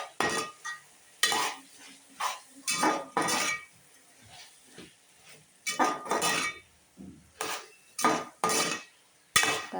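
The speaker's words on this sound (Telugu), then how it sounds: "టమాటా ముక్కలు, ములక్కాయ ముక్కలు ఫ్రై అవుతున్నాయండి ఇప్పుడే" Tomato and drumstick pieces frying in a curry pan, a soft sizzle broken by repeated clinks and scrapes of a metal spoon stirring against the pot in irregular bursts, close and fairly quiet.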